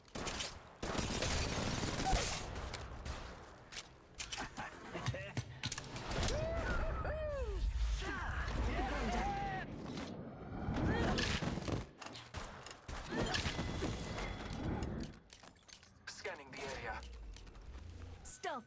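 Gunfire in the mobile battle royale game Apex Legends Mobile: rapid bursts of shots and rattling volleys come and go over busy in-game effects, with voice lines talking throughout.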